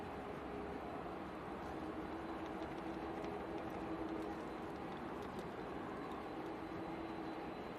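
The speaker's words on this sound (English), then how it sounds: "Nice landing there from the Iceland Air" An Icelandair airliner lands in a steady, distant roar of jet engine and rushing air, a faint continuous rumble with no voices.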